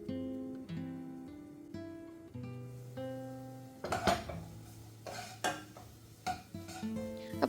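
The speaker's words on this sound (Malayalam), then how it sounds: "അപ്പോൾ ഉള്ളി നന്നായിട്ട് തന്നെ വഴണ്ട് വരണം കേട്ടോ." Onions and curry leaves sautéed in a pan, with clattering spoon-on-pan scrapes and clinks arriving in bursts during the second half over background music and a light sizzle.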